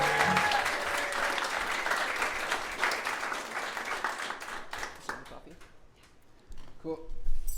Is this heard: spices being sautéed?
no